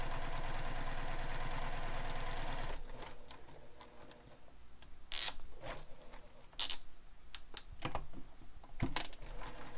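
A domestic sewing machine stitches fabric for a handbag, a steady rapid whir for the first few seconds, then stopping, followed by scattered handling clicks and rustles of fabric being turned, close and fairly loud.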